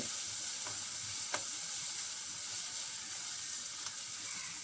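Sautéing in a pan for chilli bajji, a dense, even sizzle close up with a few faint scrapes of a spoon stirring.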